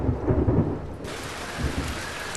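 Heavy summer rain with rolling thunder in Beijing at dusk, a loud, dense wash of downpour under a deep rumble, with no voices.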